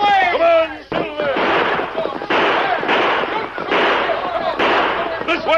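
Sharp bursts of gunfire crack out in a radio western drama, several shots in quick succession among shouting voices and a horse's whinny, all loud and close.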